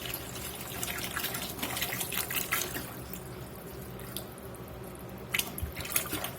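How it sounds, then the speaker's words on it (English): V8 juice poured from a bottle into a pot of Louisiana blackened hamburger soup, giving a steady liquid splashing and trickling that runs for several seconds with a few brighter drips near the end, no talking. "I'm gonna put this V8 juice in."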